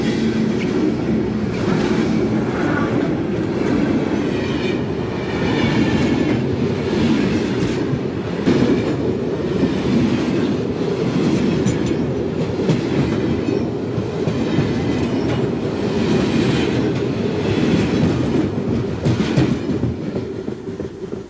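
A heavy Monongahela Railway freight train hauled by locomotives rumbles past steadily and loudly for a long stretch, wheels clacking rhythmically over rail joints, with faint metallic squeals throughout.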